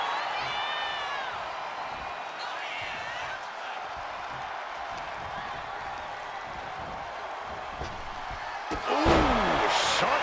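A wrestling arena crowd in a video game roars throughout, a dense far-off cheer under a commentator's voice, swelling louder with a burst of noise near the end.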